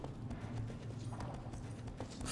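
Horse hooves galloping in Shadow of the Colossus, a steady rapid clip-clop rhythm over a dense rumbling background, heard close and continuous throughout without talk.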